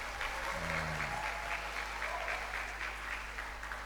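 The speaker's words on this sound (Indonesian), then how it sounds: "Tepuk tangan untuk beliau." Students at a provincial labour office outreach session in a vocational high school applaud a guest speaker with soft, continuous clapping, fairly distant, over a low electrical hum and a brief tonal sound near the start.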